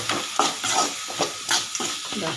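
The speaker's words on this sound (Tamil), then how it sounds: "மூடி எடுத்தது ஒரு கிளறணும்" Mutton masala stirred in a pan just after the lid comes off, a run of quick close scrapes and soft sizzling in an uneven rhythm, fairly loud and without talk.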